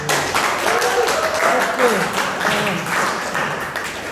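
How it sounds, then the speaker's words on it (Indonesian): Applause from a class after a lecture, a steady patter of many hands clapping at close range, with a voice speaking briefly at the start. "Tepuk tangan untuk semua tadi."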